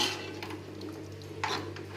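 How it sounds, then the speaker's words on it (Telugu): A spoon stirs mutton curry in a pot after half a litre of water has been poured in. Soft scraping and clinking sounds repeat at close range over a steady low hum. "బాగా తిప్పేస్తున్నాను"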